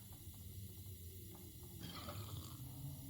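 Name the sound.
drinking broth in The Long Dark video game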